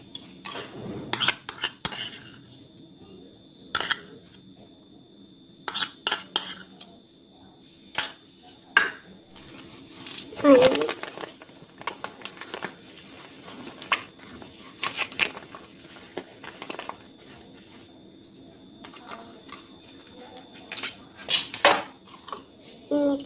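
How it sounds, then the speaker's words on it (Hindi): A spoon mixes spicy khatti-meethi fruit chaat with fresh cream in a bowl, giving scattered close clinks and scrapes against the dish in irregular bursts, with no talking. "इसे अच्छी तरह मिक्स करते हैं।"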